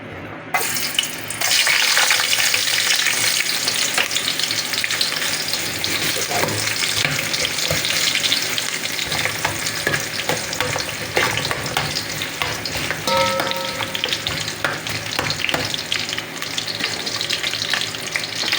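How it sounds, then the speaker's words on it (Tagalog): Hot cooking oil in a pot sizzles loudly and steadily while ingredients are sautéed for sinigang na pritong isda, with scraping stir noises and an occasional clink over the dense frying hiss, no speech. "meron na akong ininit na kasirola na may mantika. Igigisaan muna natin."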